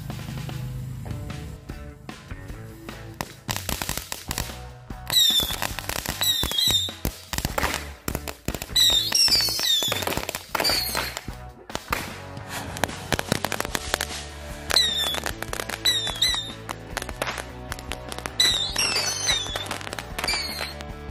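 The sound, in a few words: firecracker rockets exploding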